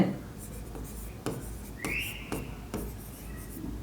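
Chalk or marker writing an answer on a board in a maths class, a series of short scratchy strokes and taps over about four seconds, fairly close, with a faint squeak.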